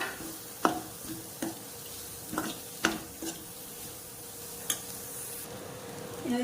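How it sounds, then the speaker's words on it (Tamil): Chopped egg and coriander leaves are stirred into a fried masala in a pan, giving intermittent scraping strokes over a steady soft sizzle, close by with no talking. "சேர்த்துட்டு இதை வந்து கிளறிக்கிறேன்"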